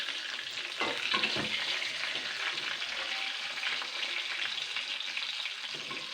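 Eggplant pieces sizzle steadily in hot oil in a pan, a continuous close frying crackle with small pops, and no voices.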